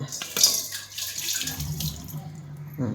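Water pours and splashes as it drains from a container of soaked lentils, a steady trickling stream with a few sharp clinks near the start.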